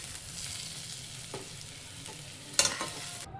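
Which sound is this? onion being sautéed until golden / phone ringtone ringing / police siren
onion being sautéed until golden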